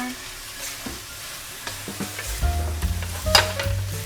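Squid and onions stir-fried in a pan, with a soft sizzle under scraping and clinking of a spatula against the metal, growing busier and louder toward the end; no talking.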